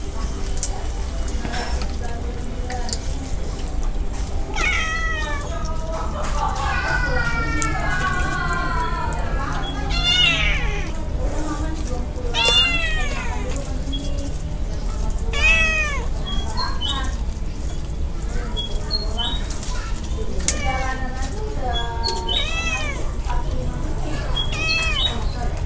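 Cats meowing while being fed, repeated rising and falling meows over about twenty-five seconds, close and fairly loud, with a person talking and steady background noise underneath.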